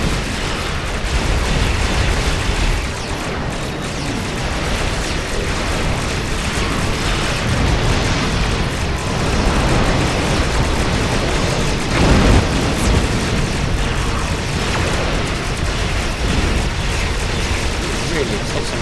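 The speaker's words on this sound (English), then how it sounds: "God, I love a torpedo spread." Torpedo spread explosions boom and burst in a Star Trek Online space battle, a dense, loud, continuous wash of blasts and rumbling with a sharper burst near the end.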